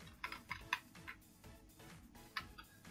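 Typing on a computer keyboard, a sparse, irregular run of crisp key clicks with short pauses between them, close by and fairly quiet, no voices.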